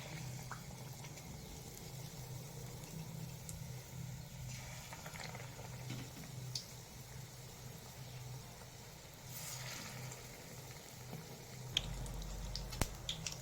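Street-style mirchi bajji, battered chillies, fry in hot oil. A soft, steady sizzle and bubbling continue throughout, with a few faint pops and clicks near the end and no talk.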